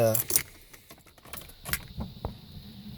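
Car keys jangle briefly and close by as the ignition is switched on in a newly repaired car, followed by faint clicks and a soft electrical hum; a voice speaks lightly underneath.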